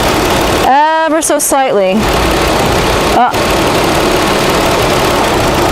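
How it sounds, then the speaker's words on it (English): A 2007 Kia Sedona engine idles steadily, its load shifting briefly as the A/C relay is wiggled, a faint click in the middle, with a person talking over the first part. "you can hear the load change on the vehicle"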